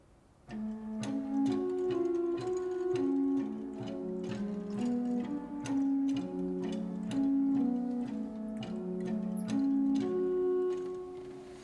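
A pipe organ plays the left-hand part of Bach's chorale prelude Ich ruf zu dir, Herr Jesu Christ, BWV 639: a steady, evenly paced line of low notes on its own, moving stepwise in a continuous running pattern with no voices.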